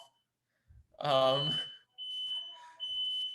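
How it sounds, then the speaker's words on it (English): A building fire alarm sounds during a university lecture, a high, steady electronic tone that breaks off and comes back in repeating bursts, with someone talking over it. "I apologize for the fire alarm."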